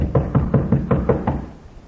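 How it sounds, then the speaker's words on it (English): Six firm knocks on a door in a 1950s Western radio drama, evenly spaced raps that land close and loud, then stop and leave a quiet pause. "Go ahead and knock, Jingles."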